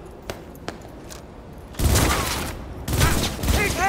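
Gunfire in Cyberpunk 2077 erupts as two loud, dense bursts of rapid shots after a couple of faint, isolated pops, with voices shouting over the firefight.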